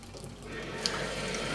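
Water drawn from an old outdoor well pump runs steadily at close range, a continuous rushing pour like a tap filling a vessel, with a brief brighter splash partway through.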